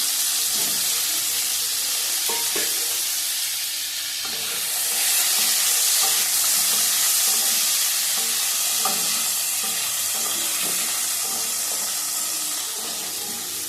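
Cauliflower and potato fry together in a pan, giving a continuous loud sizzle with occasional stirring scrapes and knocks, swelling briefly stronger midway.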